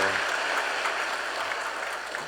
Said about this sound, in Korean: 박수로 한번 환영해 주시겠습니다.